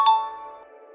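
A short struck tone in a song, drenched in heavy reverb, rings out and decays slowly over about a second with no other sounds.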